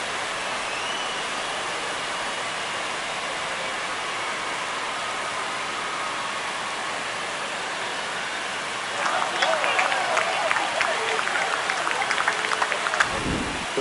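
Stadium crowd at a Major League Baseball game, Dodgers versus Rays, keeps up a steady broad roar that swells louder and denser near the end as fans cheer a home run.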